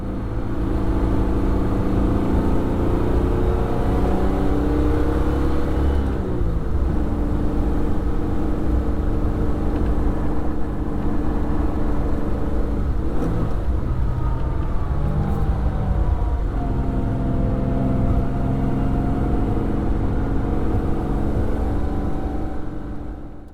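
A 1966 Jaguar E-Type Series 1 drives along with a steady engine drone and road rumble, the pitch rising and falling through gear changes and acceleration over about twenty seconds.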